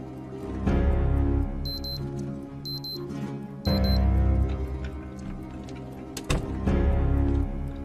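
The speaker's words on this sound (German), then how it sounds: "Wahrscheinlich geht der Wecker eh wieder los." An alarm clock in the video game Project Zomboid rings in repeated bursts of rapid electronic beeping, each lasting a second or two with short gaps, over a low background rumble.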